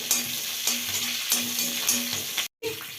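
Cumin, fenugreek seeds, dried red chillies and a green chilli crackle in hot oil for a tempering, a close, continuous sizzle with rhythmic stirring strokes and a short break near the end.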